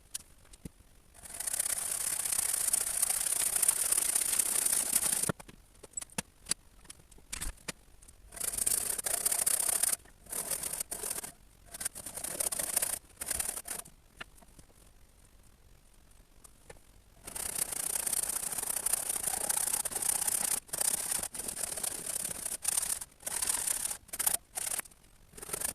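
A wooden tenon for a gate post is cut by hand in bursts of harsh, raspy sawing strokes, with several short pauses and one longer quiet gap before the cutting resumes, close and fairly loud.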